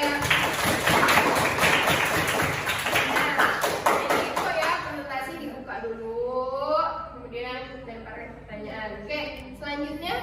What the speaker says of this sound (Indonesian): Tepuk tangan dulu untuk kelompok ya